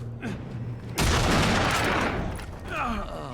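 A gunshot in the video game I Am Alive erupts as one loud, booming blast that rolls and decays over about a second and a half, with someone speaking before and after it.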